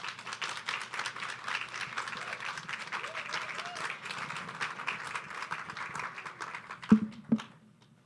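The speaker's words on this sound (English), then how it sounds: "Please give a round of applause for the TSU debate team." An audience applauds the TSU debate team at a maternal and child health education and outreach event, a steady sustained round of clapping with a murmur of crowd voices, ending with a couple of louder claps near the end.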